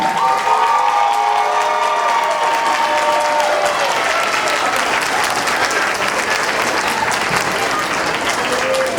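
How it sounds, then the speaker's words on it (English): Loud, sustained applause with scattered cheers fills a graduation hall as the audience honors the class of 2019, dense clapping throughout and voices shouting within it. "y'all can clap louder than that"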